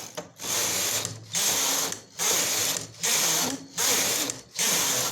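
A punch card knitting machine knits cardigan rows, its carriage swept back and forth in about five regular passes, each a loud mechanical rattling whir separated by short pauses.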